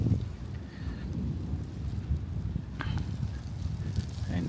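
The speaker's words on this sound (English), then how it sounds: "you might have heard the thunder in the background" Distant thunder rolls low and continuous beneath a crackling outdoor fire beside a grey water pond, with wind and rain-like hiss filling the background.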